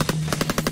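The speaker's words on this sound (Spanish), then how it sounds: "las torretas pegando tiros así" Rapid bursts of automatic turret fire against zombies in the video game Ultimate Zombie Defense, about seven sharp shots in quick rhythm over a steady low tone, loud and without speech.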